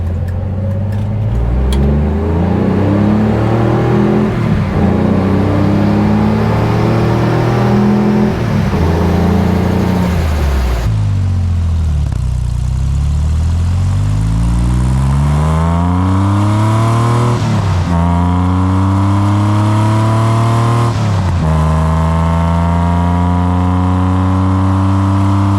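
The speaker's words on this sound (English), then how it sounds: "let's do a quick wide open throttle rip from about 0 to 60 or so" A Corvair engine with custom fuel injection revs hard at full throttle from about 0 to 60, climbing in pitch through several gears with brief dips at each shift, loud and close throughout.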